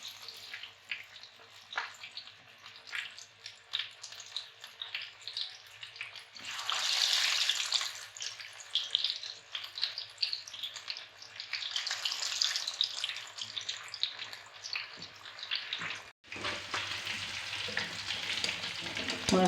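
Pieces of fish for a crispy fried fish recipe frying in hot oil, a steady crackling sizzle with bursts of louder spattering as pieces are added, close up with no talking.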